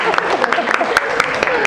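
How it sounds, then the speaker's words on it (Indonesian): Short burst of classroom applause, rhythmic clapping from a group of students, close and fairly loud with voices mixed in. "Tepuk tangan buat kita semuanya."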